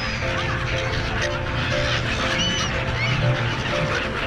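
A large flock of seagulls circling at Bangpu, Thailand, calling over one another in a continuous noisy chorus with shrill cries rising above a steady outdoor wash.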